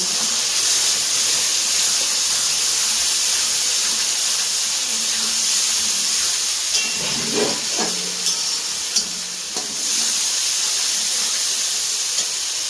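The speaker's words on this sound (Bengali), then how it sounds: "আর হচ্ছে লঙ্কা বাটাটা টক দই সব একসাথে দিয়ে এবারে ভালো করে এটাকে কষাতে থাকবো" Chilli paste and sour yogurt frying in oil for a duck meat curry, a loud steady hiss and sizzle close up with a few clinks and scrapes of a spoon stirring midway, no voices.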